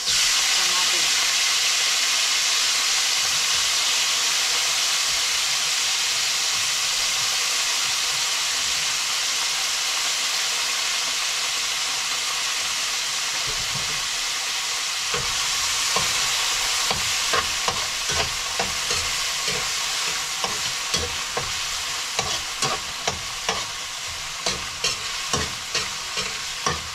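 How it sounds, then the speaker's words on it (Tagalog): Onion and tomato are sautéed in a hot pan, starting as a loud, continuous sizzling hiss. Later, rapid rhythmic scraping and stirring strokes run through the sizzle, close by. "Sunod natin isa ang sibuyas at kamatis."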